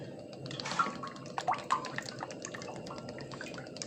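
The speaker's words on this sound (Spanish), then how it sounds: "Tengo aquí una cazuela, le voy a poner aceite." Cooking oil poured into a cazuela for red rice, a soft liquid trickle with a few brief drip-like splashes, close and moderately quiet against light background noise.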